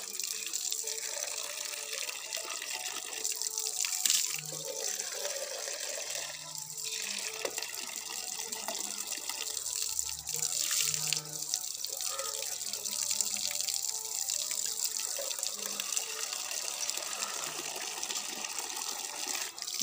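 Tap water runs steadily for a bath, a continuous splashing gush with faint bumps and knocks underneath, close by and unbroken throughout.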